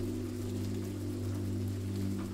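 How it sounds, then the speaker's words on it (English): Rain falls on skylights as a steady, dense wash of soft hiss, constant and even without pauses, laid over a low humming drone, with no voices. "Rain falls on the skylights to offer the perfect sleepy soundtrack."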